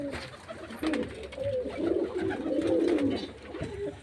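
Pigeons coo in low, rolling murmurs, several overlapping calls close by, steady over a few seconds with faint background noise.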